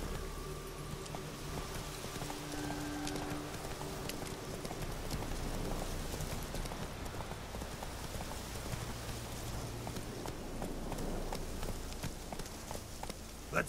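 Roach, the horse in The Witcher 3, gallops with a steady rhythm of clip-clop hoofbeats. Rain patters on the ground throughout, and a faint low hum sits underneath.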